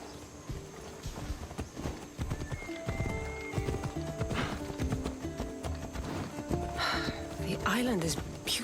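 Horse hooves clip-clopping at a steady gallop in Assassin's Creed Odyssey, with a whinny near the end, under continuous talking and game music.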